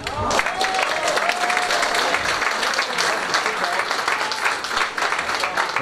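Guests at a sugar shack event give sustained, dense applause for several seconds, loud and even, with a few voices audible beneath the clapping.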